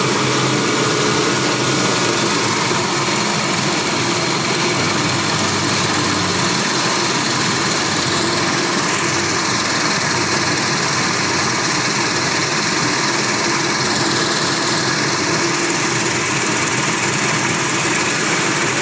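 A Pelton turbine runs steadily in a fluid mechanics lab, giving a loud continuous mechanical whine and rushing water roar with a high-pitched tone on top, unbroken and close throughout.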